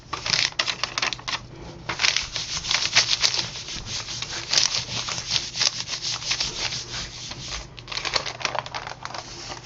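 Newspaper rubbed by hand over an inked plate for a monoprint, a steady dry scratchy rustle with repeated strokes running continuously and close, no talking.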